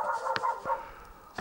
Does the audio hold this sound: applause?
no